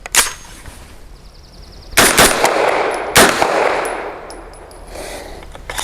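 Extar EP9 pistol firing Federal Syntech 150 grain ammunition outdoors, several loud close shots at an uneven pace, each followed by a brief echoing tail and faint clinking.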